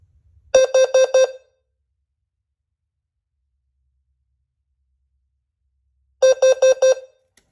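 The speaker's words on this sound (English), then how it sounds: "this is the carbon monoxide alert that they use in commercial buildings like nursing homes or whatnot" A System Sensor HCWL-LF low-frequency carbon monoxide sounder gives two loud groups of four short buzzing tones, separated by several seconds of silence.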